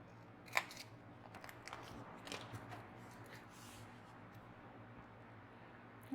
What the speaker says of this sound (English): I like to custom cut all of my foam tape.